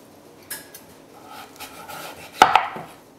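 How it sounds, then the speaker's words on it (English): A knife cutting butternut squash lengthwise into slices on a cutting board, a few soft crunching and scraping strokes, ending in a sharper knock as the blade meets the board. "cut it lengthwise in about 1-inch wide slices"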